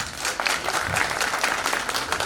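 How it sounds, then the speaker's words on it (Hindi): Applause from a theatre audience for the cast after a stage play, a dense steady wash of many hands clapping throughout at moderate loudness. "एक बार जोरदार ताली हमारे राष्ट्रीय कलाकारों के लिए।"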